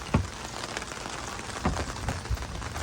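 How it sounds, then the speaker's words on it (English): Rain patters steadily on a camp, a soft continuous hiss with a few louder drops or thumps scattered through it. "Rain's not too bad, but it is making a lot of noise, thundering."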